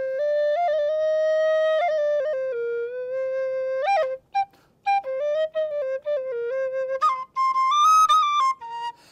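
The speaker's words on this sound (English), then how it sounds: "Another fipple flute would be found in the Irish penny whistle." Irish penny whistle, a fipple flute, blown alone in clear sustained notes that step between pitches, with short breaks and quick ornamented turns toward the end.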